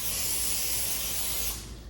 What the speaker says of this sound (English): I'm going to go ahead and spray the top a little bit.